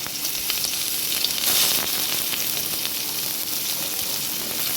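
Chopped onion frying in a small amount of oil in a cooking pot makes a steady, close, hissing sizzle that runs evenly throughout with a faint rise midway.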